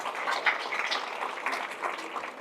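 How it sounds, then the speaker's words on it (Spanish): A congregation claps together in sustained, even applause during a church service, filling the room at a moderate level with no speech on top. "Fuertes aplausos a nuestro Dios"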